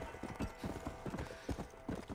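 Horse hooves clip-clop in a steady, fairly close rhythm as a mount trots along in a cowboy video game, with a brief whinny-like note and no talk over it.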